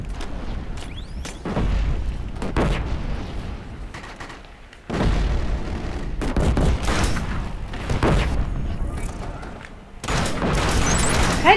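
Booming gunfire from the STA14 sniper rifle in the video game Killzone: Shadow Fall, several sharp loud shots spaced a few seconds apart, each with a rumbling tail, over steady game background noise.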